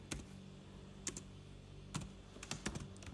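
Typing on a computer keyboard while coding, irregular clusters of close keystrokes over a steady low hum, with no talk.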